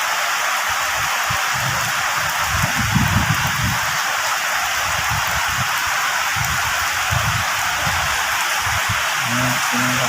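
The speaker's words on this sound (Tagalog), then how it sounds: "Ang lakas ng ulan." Heavy rain falls in Pampanga during a downpour with nearby flooding, a loud steady wash of water with low rumbling thumps underneath.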